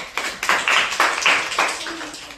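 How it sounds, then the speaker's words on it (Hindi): Children in a remedial maths classroom clap together in a rhythmic burst of about half a dozen group claps, fairly close and bright, each smeared slightly as many hands land at once. "ताली बजाओ।"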